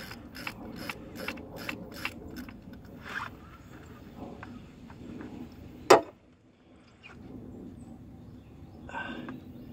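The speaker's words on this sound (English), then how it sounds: "Might actually have to get a wrench in there to get that second one." A ratchet wrench clicks rapidly while turning bolts during removal of a Gen 3 M90 from a GTP. A quick run of close ratcheting is followed by a single sharp metallic clank, then quieter mechanical fumbling.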